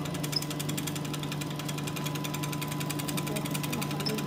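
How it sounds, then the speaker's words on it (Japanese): A chocolate enrobing machine with an air blower runs with a steady loud mechanical rattle and whirring hum, unchanging throughout. "ショコラの中を通って風でブロワーで落として"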